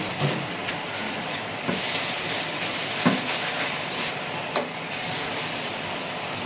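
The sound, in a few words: frying red amaranth greens in a pan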